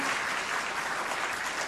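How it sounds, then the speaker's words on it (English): Audience applause at a hackathon event session, a steady dense wash of clapping lasting under two seconds at moderate level with no speech. "we can clap for that"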